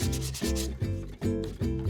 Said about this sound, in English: It feels like I've been sanding all day.